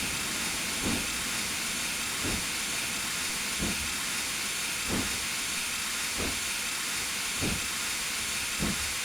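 Steam locomotive chuffing past on the Somerset & Dorset Joint Railway in Train Simulator Classic, a steady hiss of steam with regular, evenly spaced exhaust beats roughly every second and a half, with no talk.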